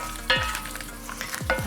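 Vegetables browning in a saucepan for a vegetarian vol-au-vent filling, a steady close sizzle with a few stirring scrapes and clatters.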